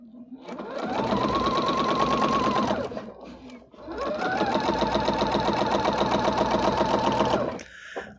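A sewing machine stitches free-motion quilting across a quilt in two long sustained runs of rapid, steady needle chatter, separated by a brief pause, loud and close with no talk.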